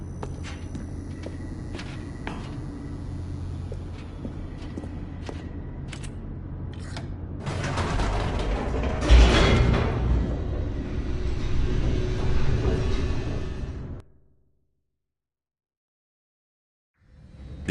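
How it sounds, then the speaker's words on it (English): An elevator descends in The Stanley Parable with a steady low mechanical hum and clicks that swell into a louder rushing rumble with a heavy thump, then cut off abruptly to silence before a brief return. "The elevator raced downward, plummeting towards an unknown fate."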